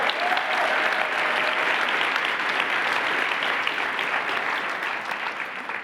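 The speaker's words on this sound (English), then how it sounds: "please give yourselves a big round of applause" Large summit audience giving itself a big round of applause in a hall, a sustained dense roar of clapping from many people, loud and even throughout with a faint tonal whistle early on.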